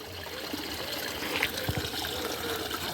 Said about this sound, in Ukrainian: Ось це джерело.